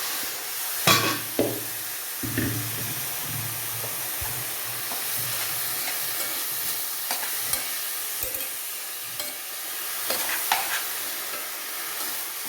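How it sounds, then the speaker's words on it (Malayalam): Chopped, washed banana flower tipped into a hot pan for Kerala thoran, giving a few soft thumps followed by a steady close sizzle and stirring scrapes, with no talking. "ഇനി നമുക്ക് ഈ അരിഞ്ഞ് വെച്ചിരിക്കുന്ന കഴുകി വെച്ചിരിക്കുന്ന വാഴച്ചുണ്ട് ഇട്ട് കൊടുക്കാം"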